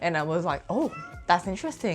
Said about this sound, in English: I apologize for my cat.